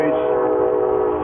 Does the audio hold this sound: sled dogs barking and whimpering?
no